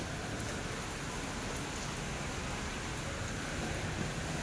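Steady rain hisses continuously, a dense even patter with no pauses, fairly close and uniform throughout.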